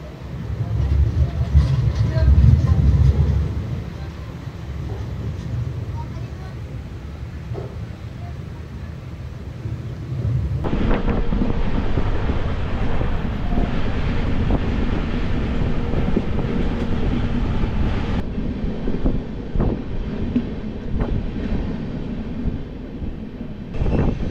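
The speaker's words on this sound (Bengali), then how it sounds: "আমাদের ট্রেন এই মুহূর্তে পার করছে সেলেঙ্ঘাট স্টেশন" Inside a moving passenger train passing Selenghat station, a steady rumble and rattle of wheels and carriages, with a louder, rougher stretch partway through and faint clicks over the track.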